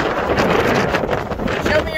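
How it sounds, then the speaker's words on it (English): Strong wind at an outdoor Nevada walipini greenhouse site, a steady loud roar buffeting the microphone throughout, with a voice briefly heard under it. "obviously, the wind is pretty intense"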